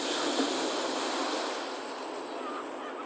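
Ocean waves wash ashore at Seven Mile Beach, Jamaica, a loud, steady roar of surf that eases slightly partway through.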